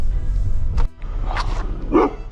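A dog barks outside a home on an Amazon Flex delivery route, giving a few short barks close by under the rumble of a vehicle.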